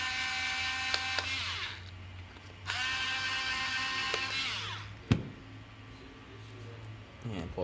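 A small electric screwdriver whirs in two long bursts while backing out the battery screws on an MSA Altair 5 gas detector, close up, followed by a sharp click and faint handling noise.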